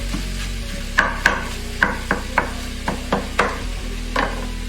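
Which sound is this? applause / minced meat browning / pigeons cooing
minced meat browning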